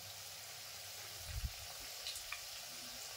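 Batter balls of soaked urad dal and rice frying in hot oil until golden brown, a steady soft sizzle with a few faint bubbling pops and stirring clicks.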